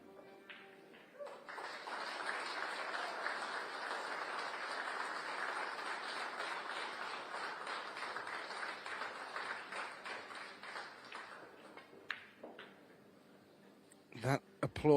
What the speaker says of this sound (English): applause was not for Kwok's last shot. That will be coming from table 2